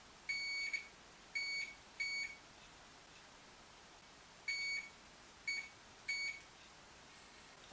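A multimeter set to continuity gives short, clear, high-pitched beeps in two clusters of three, faint and close, with quiet pauses between the groups.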